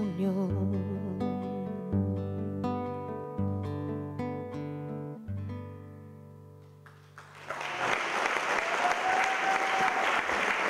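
Audience applause fills a hall at an Italian music concert, a dense steady clapping that rises abruptly after a sung, piano-backed passage and carries on loud and close to the end.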